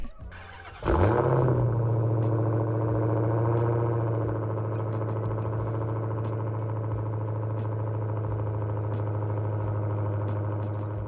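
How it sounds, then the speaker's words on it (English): A Dodge Hellcat fitted with a mid muffler delete fires up with a sharp bark, then settles into a loud, deep, steady idle that rumbles on alone for several seconds. "if you've ever heard a Hellcat with a mid muffler delete, let me show you what it sounds like"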